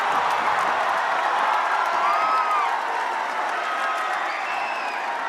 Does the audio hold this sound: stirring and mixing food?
no